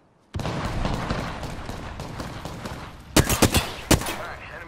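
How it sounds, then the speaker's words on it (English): Rapid gunfire in the video game Apex Legends, a sustained volley of shots followed by several sharper, louder bursts, close and punchy with no talk. "Opening fire."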